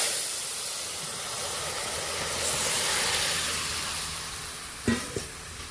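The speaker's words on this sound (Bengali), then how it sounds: "দেখো এই যে ফুটছে" A vegetarian pumpkin-greens and soybean curry bubbles in a pan, giving a steady close hiss and simmer that swells slightly midway, with a couple of brief clinks near the end.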